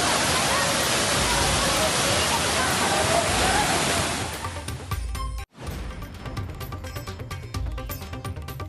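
Waterfall at Thirparappu falls with tourists bathing, heard as a loud, dense, steady rush of water that thins out partway through, followed by a brief break and quieter roaring water.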